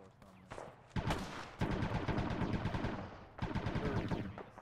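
Video game gunfire in a tactical shooter battle, dense crackling volleys of rapid shots in bursts with a brief lull, loud and close, with faint voices beneath.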